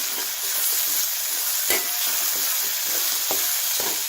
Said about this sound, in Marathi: आता टोमॅटो घालून पण छान असं परतायचं आहे